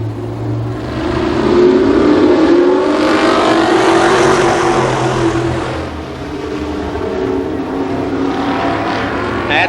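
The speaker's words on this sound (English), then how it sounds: "Eight laps for the 2nd Wing Sprint Car Heat Race." Winged sprint cars roar around Columbus Motor Speedway in an eight-lap heat race, a loud, dense pack of engines swelling and fading as the cars pass, with a steady rumble underneath.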